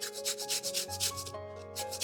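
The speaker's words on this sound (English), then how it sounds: "The first thing we're going to do is we're going to zest our whole lemon." A whole lemon is rubbed against a zester, giving a steady run of rhythmic rasping scrapes, close and fairly loud, with no voices.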